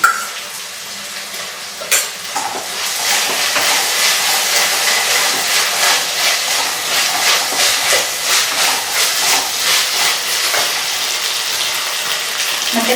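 Tempering spices hit hot oil while cooking black pepper mutton dry fry. A sharp burst sets off a loud, continuous hissing sizzle that swells and pulses steadily to the end, close up and with no voices.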